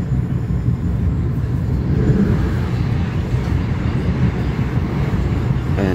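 Steady loud rumble and roar of a Pennsylvania train passing close by, a continuous dense low-frequency wash with rattling texture lasting throughout, no voices over it.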